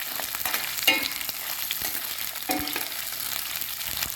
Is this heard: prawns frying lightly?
yes